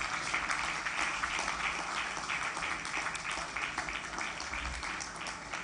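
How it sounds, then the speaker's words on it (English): A graduation ceremony crowd claps for the 2021 and 2022 science faculty graduates, a soft, even wash of distant applause running throughout with no voices on top. "Please, a round of applause for them"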